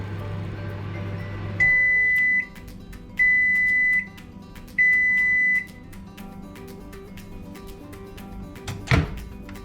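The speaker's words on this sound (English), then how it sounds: "the microwave will make 3 long beeps to let you know it's finished." Three long, evenly spaced electronic beeps from a Swan SM22030 800-watt retro microwave oven ending its cycle sound clearly, followed by a pause and then a dull thunk like a door being opened.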